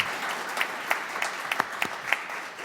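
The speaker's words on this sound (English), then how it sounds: "Let's give them a round of applause" A room at a Board of Health meeting applauds the people just honoured. Steady clapping runs throughout with a few sharper nearby claps standing out, and no speech on top.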